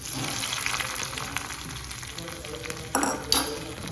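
Amaranth leaves go into a sizzling tempering in a pan for a tangy leafy-green curry, a steady crackling fry with stirring and brief louder bursts near the end, no speech.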